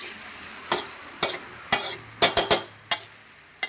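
Fried rice being stir-fried in a pan with a spatula, producing a series of sharp scraping and clattering strikes roughly every half second, close and fairly loud over a faint sizzle, with no talking.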